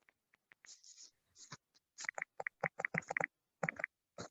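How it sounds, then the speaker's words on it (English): Someone types on a computer keyboard during an online talk: sparse, quiet clicking bursts of key presses in uneven clusters, faint and close, with no talking. "Oh, I hear somebody typing something."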